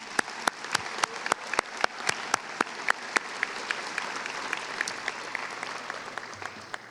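Steady applause from a crowd at a high school graduation, a dense wash of clapping with a few sharp, louder claps standing out near the start, continuing evenly throughout.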